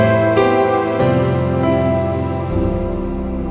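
A Casio Privia PX-5S digital piano plays a layered grand piano and string pad sound, several rich sustained chords changing in steady succession, loud and close with no voices.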